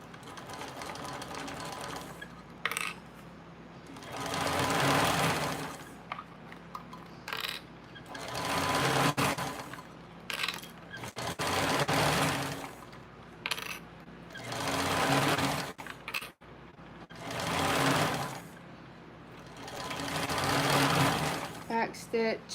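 Close-up sewing machine stitching a bottom panel at an eighth-inch seam, running in five or six whirring bursts separated by short pauses, with someone speaking in between.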